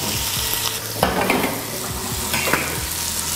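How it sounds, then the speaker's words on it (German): Smoked tofu sizzles and crackles steadily in a hot pan, with occasional scraping and stirring clatter from a utensil, close up and without talking. "Und unseren Räuchertofu, den braten wir hier in der Pfanne an."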